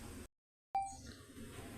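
Taro pieces drop into simmering tamarind broth with a single sharp plop after a brief silence, followed by a fading ring and quiet bubbling.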